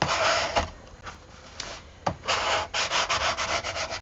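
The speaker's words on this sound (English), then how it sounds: "So I want to glue that down, and I want to get my burnish it good, make sure it's gonna stay." A glued vintage-style cabinet card is burnished down by hand, with repeated close dry rubbing strokes that swell into a rapid back-and-forth scrubbing toward the end.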